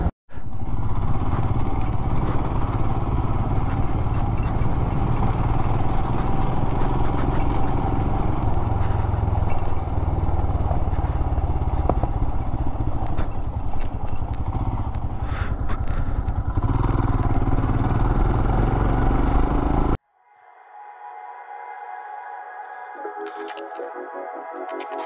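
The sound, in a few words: motorcycle riding over potholes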